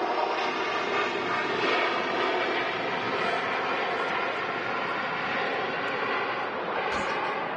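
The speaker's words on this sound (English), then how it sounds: "And the Ryanair touching down from Berlin." A Ryanair jet airliner lands at Manchester Airport with a loud, sustained engine roar and rushing broadband noise that holds steady throughout, without talking.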